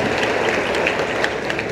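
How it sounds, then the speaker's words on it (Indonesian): An audience at a youth discussion event applauds a participant, giving a short burst of dense, steady clapping that fills the room at a close, fairly loud level without any voices. "Tepuk tangan buat Dian."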